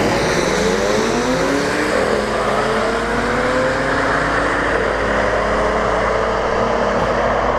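Drag race cars, including a Camaro, running down the strip at a test-and-tune night, a loud continuous engine roar with rising harmonic sweeps as the cars accelerate away, heard steadily throughout.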